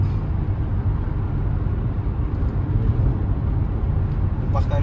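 A Mercedes C43 AMG engine while driving in traffic, heard from inside the car as a steady, deep, rumbling drone that holds a fairly constant level throughout.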